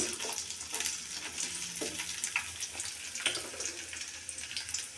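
Chopped onions fry in hot oil for tempering khichuri, a close, busy sizzle with crackling bursts and a few clinks of stirring, no voices.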